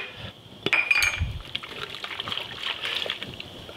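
Starchy pasta water pours and splashes into a bowl of basil pesto, a soft trickling slosh with a clink of utensil against the bowl, at close range and moderate volume.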